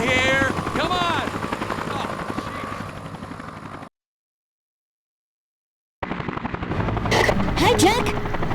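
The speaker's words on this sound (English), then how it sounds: "News chopper, right across from you." News helicopter hovering in the Dead to Rights video game, a steady rotor and engine drone heard loud with game voices speaking over it, cut by a two-second silent gap before the drone resumes with sharp bursts of gunfire.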